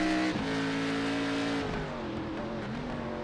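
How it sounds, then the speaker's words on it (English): An iRacing car engine at Circuit Gilles Villeneuve drones loudly, its pitch shifting as it brakes with a brief juddering wheel-hop wobble, like simulated onboard game audio. "you can hear the wheel hop as he gets on the brakes"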